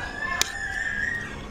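A chicken gives a brief, moderately loud call with a short sharp knock partway through, heard over low background noise in a home kitchen.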